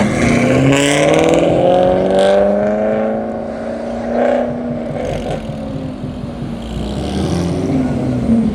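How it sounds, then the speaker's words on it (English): Several Maserati cars rev and pull away at a cars and coffee meet in a parking lot, loud engine tones rising and sweeping past, fading then swelling again. "Maseratis are sounding good."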